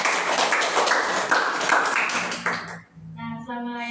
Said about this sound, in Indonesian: Boleh tepuk tangan dulu kali ya.